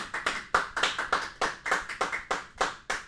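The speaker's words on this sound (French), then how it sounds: "on peut applaudir, s'il vous plaît" Studio audience at a French evening show clapping: a sparse run of sharp, separate hand claps in an uneven rhythm, fairly close and without a full crowd roar.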